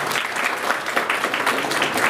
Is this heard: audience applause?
yes